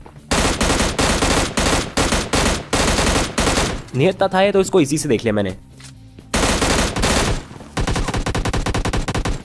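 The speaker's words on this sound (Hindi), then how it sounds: "अब देखो आसपास से भी गोलियां चल रही थी, एकेएम वगैरह।" Rapid automatic AKM rifle fire in a battle-royale shooting game, loud repeated bursts of sharp shots with brief pauses, and someone talking in the middle section.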